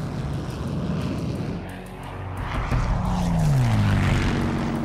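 Propeller drone of WWII Spitfire and Hurricane fighter aircraft engines, a steady roar that swells louder with a rising, sweeping engine tone near the end, with no voices.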